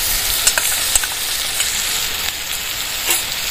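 Ginger paste fries in a pan for Bengali egg curry, a close, loud, continuous sizzle with a few soft clicks of stirring on top.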